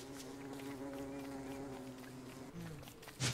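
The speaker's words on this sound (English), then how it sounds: "There are a lot of bees to the right, sounds like." A faint, steady buzzing of bees in the video game Don't Starve hums throughout, with a short louder rustle near the end.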